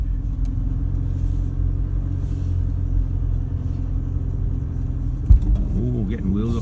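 A Toyota Prado 4x4 drives an off-road heath track, its engine a steady close rumble throughout, with a sharp knock near the end and a voice speaking briefly over it.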